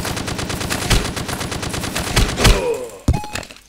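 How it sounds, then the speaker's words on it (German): Rapid automatic gunfire from the blocky multiplayer shooter Ace of Spades, dense bursts of shots rattling continuously with several louder cracks standing out, close and loud throughout. "Ey, ich werde angeschossen."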